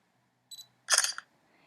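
An SLR camera shutter fires in a quiet room: a faint electronic beep is followed by a sharp, close mechanical clack.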